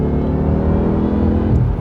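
Jaguar XKR engine revving loudly and steadily, a dense low rumble with a rising growl, heard up close with no talk.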